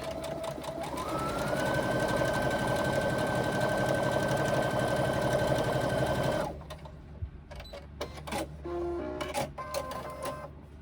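A sewing machine top-stitches the folds of a fabric pocket pouch in a loud, steady motor run with rapid needle chatter, rising in pitch early on, then stopping abruptly, followed by scattered clicks and handling noises.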